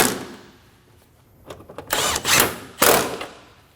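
A tool tightens the wiper transmission bolts on a Scion xB. After a quiet stretch there are several short bursts of close mechanical ratcheting and clicking, with no voices.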